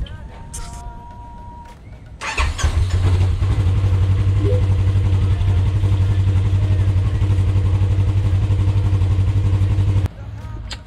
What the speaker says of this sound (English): we're going to start it up, I'll show you the smoke